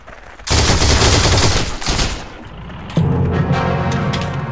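Machine gun fire in the World War II shooter Heroes & Generals, loud sustained bursts that break off briefly and then resume as another rapid burst, with no talking.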